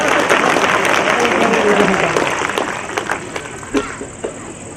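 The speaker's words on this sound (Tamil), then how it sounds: "கைத்தட்டல் கொஞ்சமா வருதுன்னா என்ன அர்த்தம்?" A crowd at a Tamil motivational speech breaks into loud, dense applause that thins out after a couple of seconds into a few scattered, separate claps.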